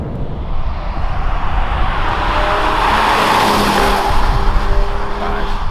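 A 2021 BMW 540i xDrive M Sport pulls hard up to about 6,700 rpm on a snowy road, a steady loud engine roar mixed with road and tyre noise heard from inside the car, without speech.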